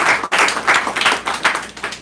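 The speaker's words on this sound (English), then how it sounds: "Round of applause, everybody." A crowd claps and applauds steadily, dense and fairly close, with no voices over it.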